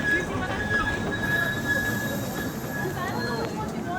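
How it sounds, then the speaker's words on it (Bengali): A train arriving, with steady, loud rumbling and long, high wheel squeals ringing over it throughout; faint voices may sit beneath the noise. "যে ট্রেন চলে আসছে তো।"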